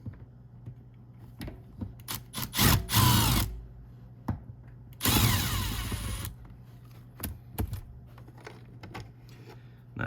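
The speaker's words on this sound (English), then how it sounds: "I'm going to take these 2 screws out." Two screws being backed out of the rear curtain trim on a 1992 C4 Corvette, heard as two close bursts of tool whirring and scraping between quieter clicks and handling noises, with no talking.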